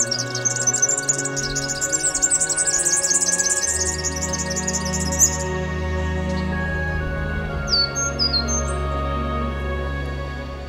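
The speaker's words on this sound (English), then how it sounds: "And the air is filled with birdsong." Spring birdsong in the native coastal bush of Murramarang, a bright rapid trill of high chirps up front, then fainter scattered calls over a steady low ambient rumble.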